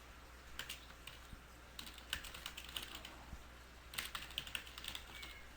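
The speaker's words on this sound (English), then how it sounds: "I'm just hitting the enter button so it doesn't just all go across" Fairly quiet computer keyboard typing as text is entered, in irregular bursts of soft clicks with occasional heavier strokes like the enter key, with no speech.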